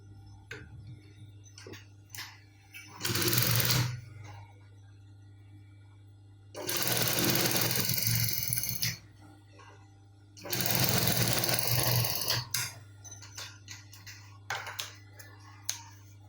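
A sewing machine stitches a back pocket onto a pair of trousers in three loud, steady bursts of a few seconds each, separated by quieter pauses with faint handling sounds.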